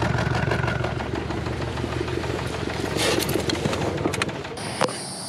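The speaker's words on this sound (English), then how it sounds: "Oh, it is idling really bad." A car engine idles roughly up close, a loud uneven rumble with sputtering pulses, and a sharp clatter near the end.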